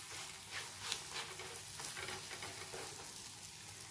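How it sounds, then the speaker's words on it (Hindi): Pancake batter frying in a pan over a low flame, a steady, soft sizzle with faint crackles, close and quiet, with no voices. "इसको तकरीबन आधा मिनट या 1 मिनट हल्की आँच पे पका के फिर इसको आप पलटें।"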